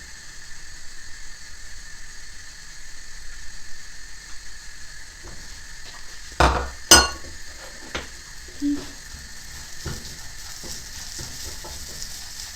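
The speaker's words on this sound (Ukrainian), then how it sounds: "Тепер додаємо нашу засмажечку" A fried onion mix going into buckwheat in a pot, with a soft steady hiss, a couple of loud clanks from a utensil against the pot, then quieter scraping of stirring.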